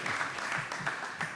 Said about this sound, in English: Come on, Chris, I'll applaud for you.